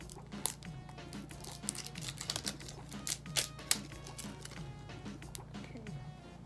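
Plastic wrapping crinkles and tears off a cream blush product, a run of quiet scattered crackles and sharp ticks close by over a steady low hum.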